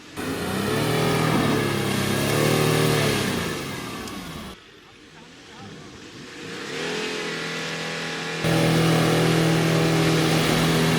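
A Lexus GX 470 or VW Touareg SUV revving hard off-road with low range disengaged, its engine rising and falling in loud straining surges, dropping briefly, then climbing back into sustained, high revving.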